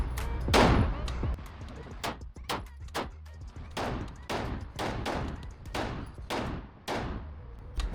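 A SIG P226 X5 Reserve pistol fires a string of about fourteen sharp, loud shots at a shooting range, loaded with fifteen rounds, in a fairly steady rapid rhythm with ringing decays between reports.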